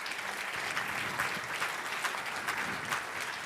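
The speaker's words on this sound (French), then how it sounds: "Et on l'applaudit." An award-ceremony audience claps in sustained, even applause that fills the room from start to finish with no voices over it.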